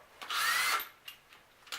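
A power drill driving a screw into a hive stand whirs loudly for about half a second, then stops, followed by faint clicks and a short rustle.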